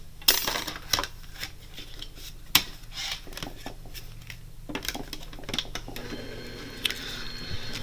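A die-cutting machine feeds a fun fold card through its rollers, giving a steady mechanical grinding and rattling with scattered clicks and knocks, close and moderately loud, with no talking.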